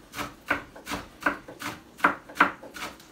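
A knife chops through ribeye and chuck steaks on a board, about eight steady rhythmic strokes, close and alone with no talking.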